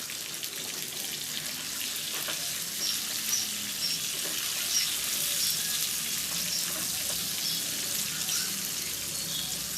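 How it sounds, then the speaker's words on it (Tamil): Chicken pieces frying in a pan, a soft continuous hiss and crackle of hot oil, steady and fairly faint throughout with no talking. "சிக்கனையும் வந்து இந்த மாதிரி ஃப்ரை பண்ணி எடுத்துக்கலாம்"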